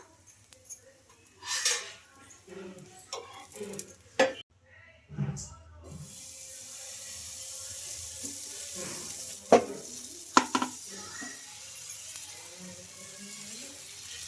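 A curd dosa sizzles as it roasts on a pan. The soft frying hiss is broken by scraping and flipping knocks, and it builds into a steady sizzle partway through.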